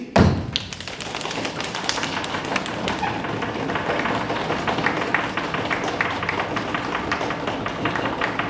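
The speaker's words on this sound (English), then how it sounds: "Drum roll, please!" A drum roll at a live show at the Ontario Science Centre: fast, steady tapping thumps held for several seconds after a sharp opening hit.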